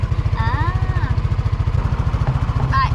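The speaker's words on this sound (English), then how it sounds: "moving on with a little noisy sightseeing machine" A small air-cooled engine of a sightseeing vehicle in the Cyclades, Greece, chugs at a rapid, steady rhythm close by, loud and rattly, with a few brief squeaks or voices over it.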